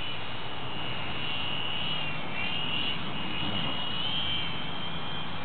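A model airplane flying overhead makes a continuous high engine whine over a wash of airy noise, its pitch drifting slightly as it passes, fairly loud and sustained the whole time.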